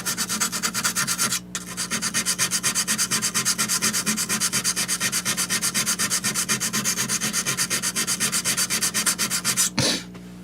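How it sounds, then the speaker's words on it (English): A chef knife blade with a hamon is hand-sanded through 120 to 220 grit with steady, rapid back-and-forth rasping strokes. The strokes are close and loud, with one brief pause early on and another near the end. "just taking this chef knife with a nice hamon from 120 up to 220. Working through the grits."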